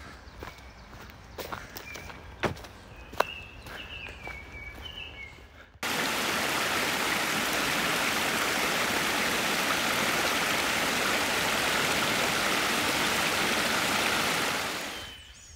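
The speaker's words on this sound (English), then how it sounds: "The river is off to the right" A river beside a Connecticut hiking trail rushes with a loud, steady hiss that cuts in abruptly after several seconds of footsteps crunching on the path, then holds constant before fading at the end.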